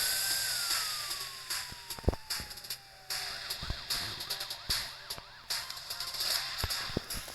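A police siren from a video game wails with a rising and falling pitch over busy game sound effects and sharp impacts, loud and close throughout.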